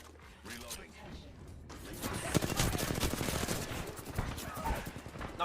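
Rapid automatic gunfire from the Apex Legends video game rattles steadily over several seconds, with a voice talking faintly beneath the shots.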